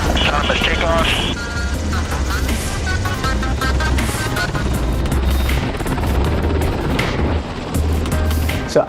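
An autonomous helicopter taking off, its rotor and turbine roar loud and steady throughout with a low pulsing beat.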